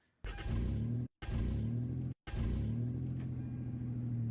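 A truck engine revs high in a loud, steady low drone that holds throughout, cut by two brief silent gaps near the start.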